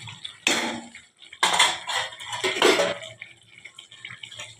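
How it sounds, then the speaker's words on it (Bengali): Cauliflower goes into hot spiced oil in a pan for a Bengali cauliflower roast, making three loud bursts of clatter and sizzle followed by quieter, continuous frying. "এখন ওই যে কপিটা দিয়ে দেবো।"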